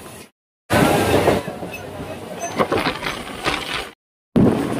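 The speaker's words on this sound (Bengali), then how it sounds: "এই হচ্ছে তাম্রলিপ্ত এক্সপ্রেস দীঘার পথে যাচ্ছে" The Tamralipta Express runs toward Digha, its wheels clattering in a steady rhythmic roar between two brief silent gaps, with scattered sharper rail clanks.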